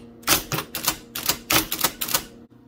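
Typing on a 1980 IBM Selectric III electric typewriter: a loud, close run of rapid clacking keystrikes in uneven bursts over a steady motor hum, with no talking.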